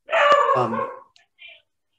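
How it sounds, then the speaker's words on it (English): A single dog barks once nearby, a drawn-out, loud bark followed by a faint softer yelp, then quiet. "that dog agrees"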